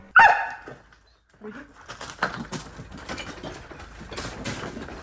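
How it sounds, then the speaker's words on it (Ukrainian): Young Belgian shepherd search dogs bark during rescue training at a man-made rubble site in darkness: one loud close bark opens, then a pause, then continuous rustling, scrabbling movement and faint background activity. "Першими випробування пройшли молоді собаки Мара та Бафі, 7- і 8 бельгійські вівчарки."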